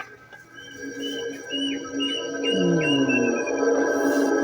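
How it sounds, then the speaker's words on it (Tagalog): A bird calls with a series of short repeated chirps over a steady background drone, moderately distant and fairly faint. "Yung huni ng ibon na yun."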